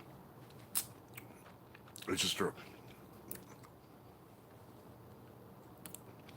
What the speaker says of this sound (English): I chewed it up real good